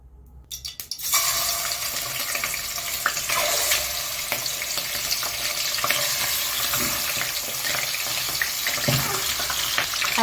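Chicken kabsa spices sizzle and crackle in hot oil and ghee, a loud, steady frying hiss that starts abruptly after a brief rattle and continues without speech.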